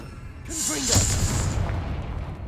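A Confringo blasting spell explodes in the Hogwarts Legacy video game, a single booming burst with a bright crackling hiss that swells near the middle and fades, close and loud over rumbling game audio.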